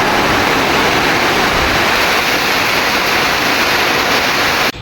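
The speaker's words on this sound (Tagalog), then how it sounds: "Malakas pa rin talaga yung ulan at hangin" Steady, dense roar of typhoon rain driven by wind, loud and unbroken throughout, cutting off abruptly at the end.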